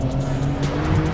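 A Porsche launches off the line on a race track, its drivetrain droning steadily up close with a brief squeal of tires under it.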